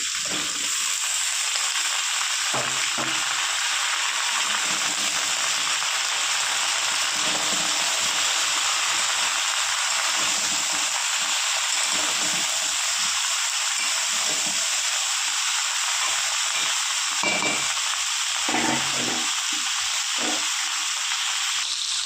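Chopped brinjal and pointed gourd fry in a pan for a vegetarian mixed-vegetable dish, giving a steady, close sizzle with a constant hiss and occasional soft stirring clatters, no one speaking.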